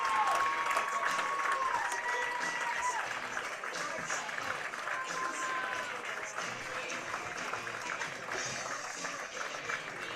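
A high school football crowd at the Baxter Bolts' home game applauds and cheers steadily as the team returns to the field, a broad sustained roar with whistles, heard from a distance with a commentator talking over it.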